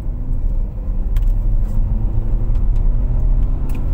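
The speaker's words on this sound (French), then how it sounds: "Nous allons donc faire une accélération de 0 à 80 km/h avec un freinage d'urgence" Renault Arkana hybrid car accelerating hard from 0 to 80 km/h, heard from inside the cabin as a steady, loud low rumble with engine whir that holds throughout.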